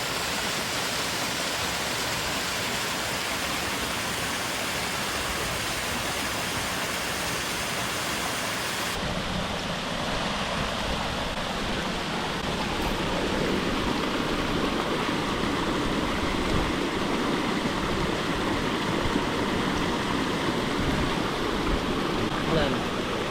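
A large waterfall in Vietnam's terraced rice field country, its continuous heavy rushing roar steady and loud throughout, shifting in tone partway as the listening position changes.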